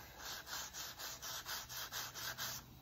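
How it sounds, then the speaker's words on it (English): Light strokes of 600 grit sandpaper rubbed over the frets of a Les Paul style guitar kit, about ten even back-and-forth passes in a steady rhythm, soft and close. "very, very lightly take a piece of 600 grit sandpaper and go over the frets just enough"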